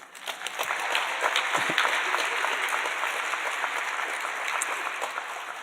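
A conference audience at the National Tribal Tobacco Conference closing keynote claps loudly and continuously, the applause swelling quickly and holding steady before easing slightly.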